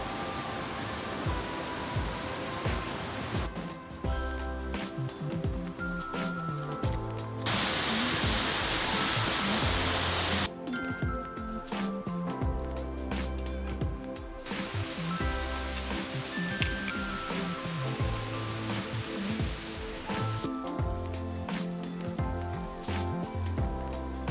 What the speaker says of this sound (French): T'es le long de la rivière.